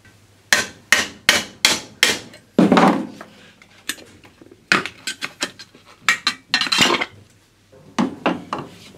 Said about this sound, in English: you basically stick a thin-bladed screwdriver in there and whack it with a hammer